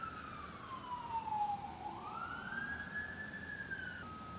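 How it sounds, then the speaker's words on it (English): An emergency vehicle siren wails outside in the distance, a faint rising and falling tone sweeping down then back up over steady background hum. "Sorry about the siren."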